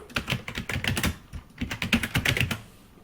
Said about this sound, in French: je vais taper page jaune